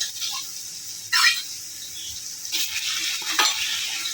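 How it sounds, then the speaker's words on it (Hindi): Ginger garlic paste fries with browned onions in a pot for kadhi pakora, making a loud, close sizzle broken by a few bursts of vigorous stirring and scraping. "अब मैं इसमें 2 चम्मच अदरक लहसुन का पेस्ट डालूंगी"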